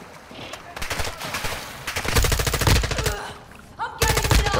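Automatic gunfire in Call of Duty: Modern Warfare II's DMZ mode, loud bursts of rapid shots and heavier impacts in close succession with brief gaps, a player voice sometimes talking over the shooting.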